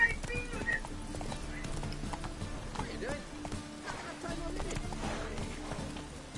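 Horse hooves clip-clop at a gallop in The Witcher 3, a steady rhythmic pounding with a brief whinny, mixed under game sounds and a voice speaking.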